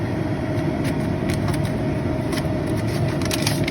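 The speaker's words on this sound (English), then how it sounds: "So you see the fan's not that noisy actually." Steady, close whir of an airbrush booth's extraction fan running, with a broad constant rush and faint intermittent crackles on top.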